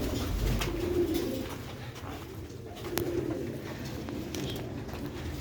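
Breeder pigeons coo softly in a rooftop loft, low rolling calls that rise twice over a steady background hiss, fairly close but not loud, with no talk.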